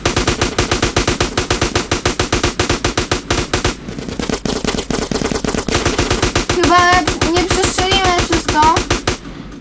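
Rapid automatic gunfire in MTA: San Andreas: a loud, steady stream of shots at close range that pauses briefly and then resumes, with faint voices underneath.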